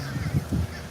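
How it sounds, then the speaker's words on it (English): Crows caw outdoors during a walk: two or three low, hoarse calls in quick succession, fairly close and moderately loud, with no talk over them. "the birds are still walking with me"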